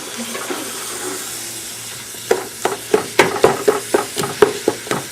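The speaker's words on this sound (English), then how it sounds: "The beef is browning, but it's not ready yet." Beef browning in a frying pan, a quiet sizzle that gives way to a quick, regular run of spatula scrapes and taps, close and clear.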